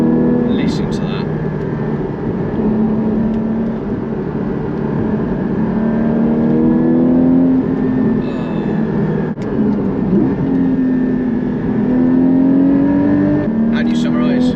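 Porsche Cayman 718 GT4 engine pulling through the gears, loud sustained rising drone with several upshifts and steady climbing pitch, heard close from inside the cabin with no talking.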